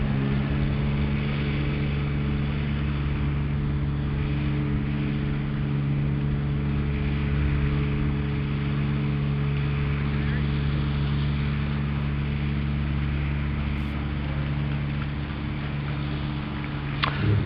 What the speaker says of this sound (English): The sound you can hear in the background is of the roller, which has been out doing its job during the break.